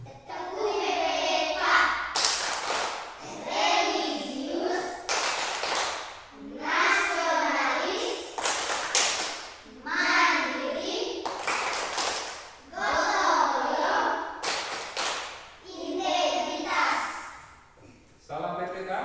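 Children in a classroom perform the PPK clapping chant, chanting in unison and breaking into bursts of sharp, rhythmic hand claps repeated several times over the passage.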